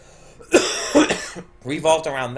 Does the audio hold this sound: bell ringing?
no